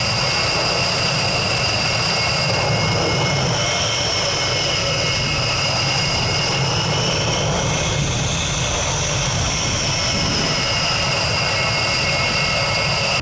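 Jet engines of a B-1 bomber roar in a continuous, loud wash of noise, with a high whining tone that slowly rises and falls over the sustained rumble, and no talking.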